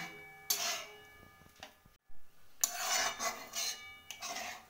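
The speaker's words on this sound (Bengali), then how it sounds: "কন্টিনিউ কিন্তু এই হাতা দিয়ে বা খুন্তি দিয়ে নেড়ে যেতে হবে বন্ধুরা" Carrot halwa simmers in boiling milk while a ladle scrapes and stirs the pot in irregular rasping strokes, with metallic ticks and a soft bubbling background, fairly quiet and close.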